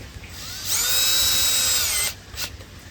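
A power drill whines at close range while an air loop system is fitted for a koi pond, one steady high-pitched burst of about a second and a half rising and cutting off cleanly, followed by a brief faint rev.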